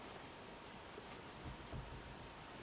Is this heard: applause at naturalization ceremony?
no